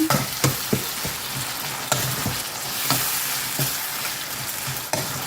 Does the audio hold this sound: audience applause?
no